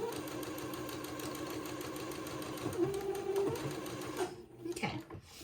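Sewing machine running steadily as it stitches a seam on a little white dress, a continuous close mechanical whir with a brief change in pitch near the end.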